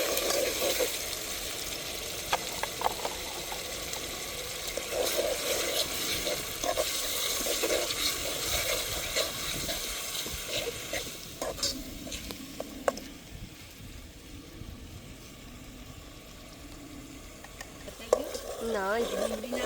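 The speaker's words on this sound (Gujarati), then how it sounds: "તો હવે મસાલો નાખી દઈ અને મસાલો હેકી નાખીએ મસ્ત રીતે" Onions and spices sizzle in a pan while being stirred and fried for a dry fish dish, with scraping stir strokes and soft frying hiss, as a person talks intermittently.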